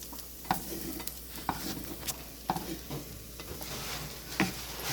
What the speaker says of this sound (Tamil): நம்ம சின்ன வெங்காயத்தை இது மாதிரி வதக்கிட்டு எடுத்துக்கலாம்.